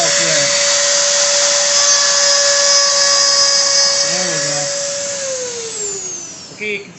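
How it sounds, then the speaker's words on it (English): Dremel rotary tool fitted with a 107 bit cutting into a wooden star: a steady, loud high-pitched whine with a constant tone that drops slightly near the end as the tool winds down. "I'm using the Dremel. And there's a 107 bit."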